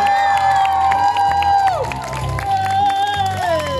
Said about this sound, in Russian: я думаю, что вы им поможете аплодисментами